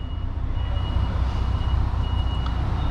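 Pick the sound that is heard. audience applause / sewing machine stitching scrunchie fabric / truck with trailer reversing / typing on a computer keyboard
truck with trailer reversing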